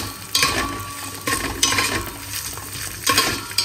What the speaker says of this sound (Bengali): ভালো করে একটু নাড়িয়ে নেবো।